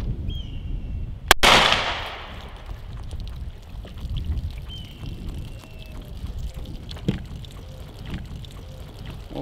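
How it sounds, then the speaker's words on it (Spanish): A single sharp gunshot from a Sig Sauer P365 XL firing 9mm full metal jacket rounds, loud and close, followed by faint outdoor ambience and scattered quiet knocks. "lo que voy a estar disparando con la Sig Sauer P365 XL, y voy a estar disparando calibre 9 milímetros, full mero jacket"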